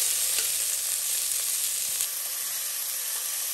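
Braciola meat searing in a pan, a steady close sizzle with fine crackling that holds evenly throughout, easing slightly after the midpoint, with no talk.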